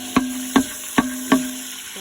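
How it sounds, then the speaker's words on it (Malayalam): Garlic sautéing in a pan for homemade fried rice, a soft sizzle punctuated by four sharp, evenly spaced taps of a spatula against the pan. "ഗാർലിക്ക് ജസ്റ്റ് ഒന്ന് അയഞ്ഞ് ജസ്റ്റ് ഒന്ന് വഴറ്റിയെടുക്കണം"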